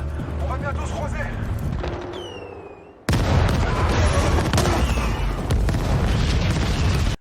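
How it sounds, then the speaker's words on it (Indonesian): A film scene with booming firecracker blasts and crackling bursts, including one sudden loud explosion midway followed by sustained dense crackle, mixed with film soundtrack and background voices. "Meskipun hanya bermodal petasan"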